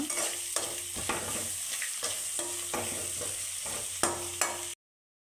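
Lemon rice ingredients frying in a pan, a steady close sizzle with repeated scraping stir strokes at a regular rhythm, no voices, ending abruptly in silence.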